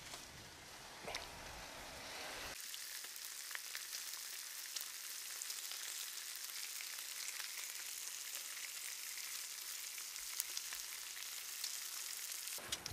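Bacon frying in a skillet, a dense crackling sizzle that starts quietly and then swells into a loud continuous spatter with scattered pops.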